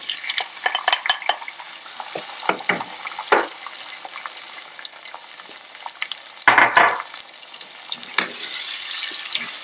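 Onion cooked until translucent, with tomatoes added, sizzles in a pan as a utensil stirs and scrapes, giving crackling bursts and clinks over a steady frying hiss, close and alone.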